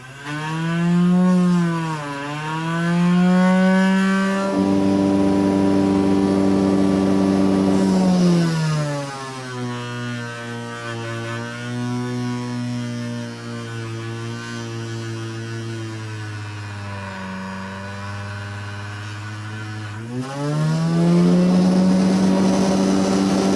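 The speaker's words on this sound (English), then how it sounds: "we're going to go ahead and shine up the bolsters while we're over here" A buffing wheel spins against the bolsters of an old Schrade knife charged with green polishing compound, a loud motor hum rising and falling in pitch as the load changes, no talking.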